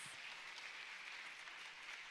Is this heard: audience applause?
yes